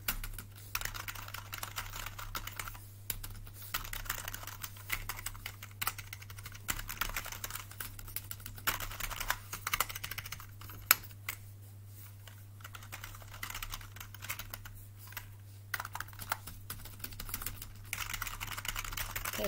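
Someone types steadily on a T6 computer keyboard, producing rapid, close clicks with occasional heavier strokes that are likely the space bar. It runs continuously with no talking, over a faint constant low hum.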